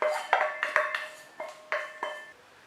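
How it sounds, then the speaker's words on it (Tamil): Ghee-roasted nuts dropped onto green gram flour in a metal bowl for laddu, a series of bright clinks and rattles from a spoon on the dish in quick irregular bursts, close up, without any talk. "அந்த நட்ஸு எல்லாம் ஆட் பண்ணிக்கிறேன்"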